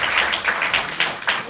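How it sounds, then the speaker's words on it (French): Audience at a French stand-up comedy show applauding, a fairly even wash of clapping with a few cheering bursts rising out of it. "On peut les applaudir."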